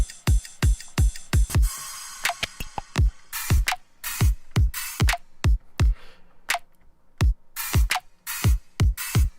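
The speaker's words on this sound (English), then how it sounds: "the drums are super basic here" A basic electronic drum beat programmed in FL Studio, with punchy kicks and sharp noisy snare or clap hits in a steady, simple pattern, loud and alone.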